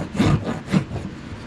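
Two scratchy rubbing strokes of sandpaper against a hand-carved wooden wand, close and distinct, followed by softer lingering friction.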